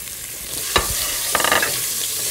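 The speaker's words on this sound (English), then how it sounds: "Let's toss in the cauliflowers." Small cauliflower florets hit hot oil with turmeric and are stir-fried in a pan, giving a loud steady sizzle with a couple of scraping stirs and tossing clatters, no talking.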